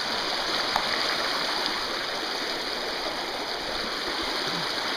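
Creek water flows steadily where two creeks join, a continuous broadband rush close by with no voices and no pauses.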